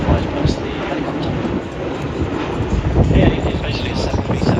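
A Boeing P-8 maritime patrol jet at an air show in Australia flies past with its bomb bay doors open, a broad, rumbling roar at moderate distance heard under a commentator's talk.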